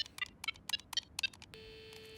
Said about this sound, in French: Après le bip, vous savez quoi faire?